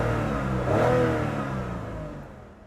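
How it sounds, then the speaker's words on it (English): A Lexus IS250 V6 engine revs up, swelling to a throaty peak and then winding down smoothly, heard close and fairly loud. "because this car is a V6, I'll show you how nice it actually sounds."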